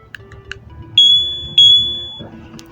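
A motorhome alarm control unit activates with a few short electronic chirps, followed by two loud, sustained high-pitched beeps, each fading out, with no speech.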